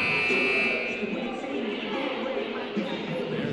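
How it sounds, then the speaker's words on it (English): A loud sustained buzzer sounds at the start during a women's college basketball game in a gym, then fades as crowd murmur and an announcer's voice continue underneath. "There's the second buzzer"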